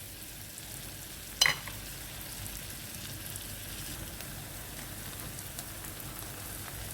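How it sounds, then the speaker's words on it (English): Fresh garlic sautéing in a pan gives a steady, even sizzle and crackle, with one brief clack near the start. "Fresh garlic, I let that saute for like 2 minutes."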